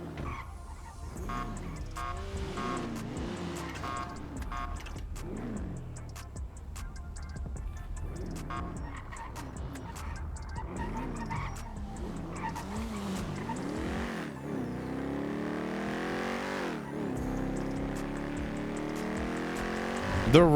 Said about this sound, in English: Mostly the sound of it is so good.